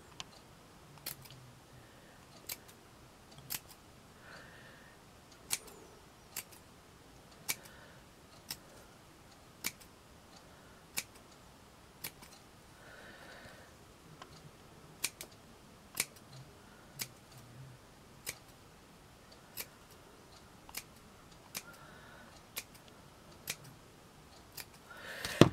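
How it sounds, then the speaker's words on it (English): Scissors snip around a handmade shabby chic swan in quiet, crisp clicks spaced about a second apart, close to the listener, with faint handling rustle between cuts. "And what we do, we're going to snip"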